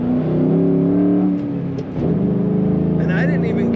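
A 2007 Ford Mustang Shelby GT V8 engine revs hard with a deep, rumbling roar that rises and dips, loud and close, with a brief lull midway before the growl resumes.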